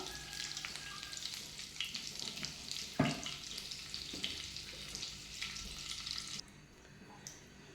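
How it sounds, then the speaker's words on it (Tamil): Cumin seeds sizzle and crackle steadily in hot oil with melted butter for a vegetable gravy, a dense close frying hiss with scattered pops and one sharp clatter midway, quieting toward the end. "எண்ணெய் நல்லா சூடானதும் நம்ம ஜீரகம் தாளித்து போட்டுக்கலாம்"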